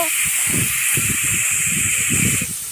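Spices fry with turmeric in a pan for a tamarind-leaf fish curry, making a loud, continuous hiss with rustling, scraping stirring underneath, close up and without voices.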